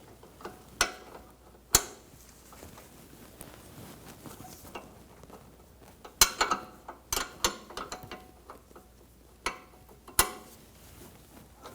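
A 13mm wrench and a 16mm wrench loosen a sway bar link nut on a 2004-2009 Audi A4 Quattro, giving sparse, sharp metallic clicks and ticks at irregular intervals against a quiet background.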